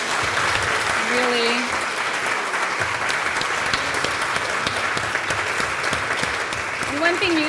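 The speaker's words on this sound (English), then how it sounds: "Let's hear another round of applause for them." A large audience gives sustained, dense applause for the storytellers at a talk event, steady and close throughout, with a few brief voices audible over the clapping.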